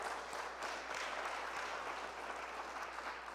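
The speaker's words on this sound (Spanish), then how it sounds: "Le damos una ofrenda de palmas al Señor." A church congregation applauds together during a Spanish-language service, a steady, even wash of clapping that holds for a few seconds, heard from some distance and fairly quiet.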